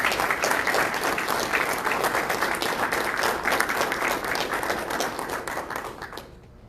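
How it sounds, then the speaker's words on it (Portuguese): A room at a Brazilian ministerial meeting breaks into applause, dense sustained clapping from many hands that holds steady for about six seconds, then fades out quickly at the end. "solicitar a todos uma salva de palmas para esse pessoal."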